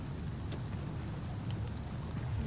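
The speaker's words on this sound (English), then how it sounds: "It's still raining pretty heavily." Heavy rain pours steadily in the video game Spiritfarer, a soft, even hiss of downpour with faint drops, quiet and uninterrupted.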